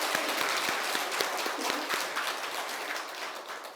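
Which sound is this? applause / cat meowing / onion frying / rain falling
applause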